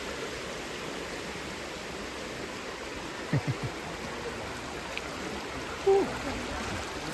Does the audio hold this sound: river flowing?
yes